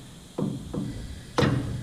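Three sharp metallic strikes, a screwdriver driven against a broken Live Valve solenoid cap on Fox shocks from a Ford Raptor, spaced unevenly with the last hit loudest; close and dry, no talking.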